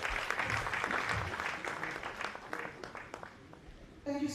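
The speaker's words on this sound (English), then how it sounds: "Round of applause, please." A conference audience at a national labor conference in Freetown claps in a busy burst that thins out toward the end, with scattered claps and voices mixed in before a speaker resumes.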